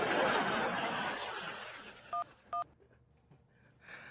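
Two short electronic telephone keypad tones beep in quick succession as a number is dialed, after a fading burst of noisy chatter, with soft snickering laughter at the end.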